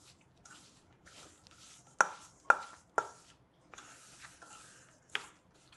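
A butter and sugar mixture mashed by hand for bread pudding, giving soft squishy presses and several sharp, close clicks and taps of a utensil against the bowl, quiet and intermittent with no talking.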